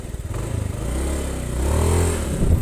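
A Honda Beat FI scooter engine with a sputtering fault when throttled chugs unevenly at first, then revs up loud and close, its note rising and wavering without settling smoothly.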